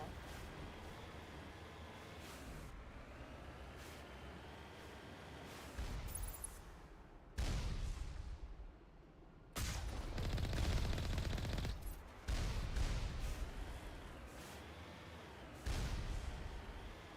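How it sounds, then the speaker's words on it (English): A turret firing in a snowy video game level: sustained bursts of rapid mechanical gunfire that start and stop abruptly, repeating over a steady windy background, moderately loud, with no voices. "That was a turret firing off."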